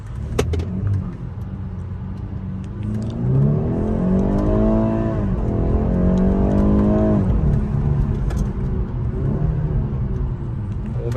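A 2021 BMW 430i M Sport (G22) two-litre engine revving up loudly and accelerating, pitch rising and falling as it pulls away, steady close rumble throughout.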